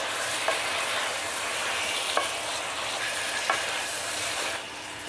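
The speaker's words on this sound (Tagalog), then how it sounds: "Ito kailangan natin igisa para sumarap. Lagyan natin ng konting paminta, konting asin. Saka natin haluin." Chicken sizzles steadily in a hot pan as it is sautéed with pepper and salt, with a few soft scrapes and clicks of stirring breaking through the continuous frying hiss.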